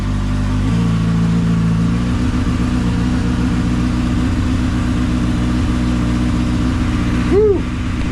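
A 2024 Kawasaki ZX-6R 636 motorcycle engine with an Arrow slip-on muffler runs steadily with a low, throbbing exhaust note, rising briefly in pitch as it revs, close and loud throughout.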